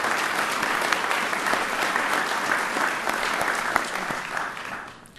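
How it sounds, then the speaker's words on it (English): Sustained applause from an awards-ceremony audience for a track honoree, dense steady clapping that holds for about five seconds before fading at the end. "Please, a big round of applause for Caitlin Fisher from Herculaneum."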